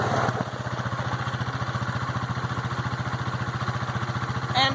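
Kawasaki Bayou 250 ATV engine idling close by, a steady low putter with an even rhythmic pulse throughout, loud and alone without talking.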